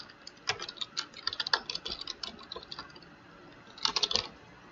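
Bursts of quick clicky keystrokes on a computer keyboard, close and fairly crisp, with short pauses between runs of typing and no voices.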